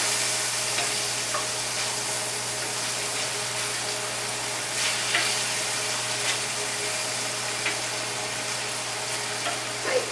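Pork carnitas fry over high heat in a pan, a loud, steady sizzle with bubbling crackles and occasional soft pops, continuous throughout with no talking.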